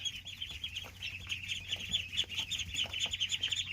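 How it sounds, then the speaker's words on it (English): Tiny baby chicks in a brooder box chirp steadily and densely, many overlapping high peeps forming a constant lively chorus with no voices. "Update on the birds."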